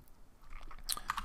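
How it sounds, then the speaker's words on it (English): Several soft keypresses tapped on a computer keyboard while entering a terminal command, quiet and close, with a small burst of clicks near the end and no talking. "We'll just type in just like this,"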